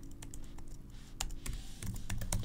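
Keys clatter on a computer keyboard as a code comment is typed, a quick irregular run of close, crisp clicks with small pauses, growing slightly busier toward the end, no voices.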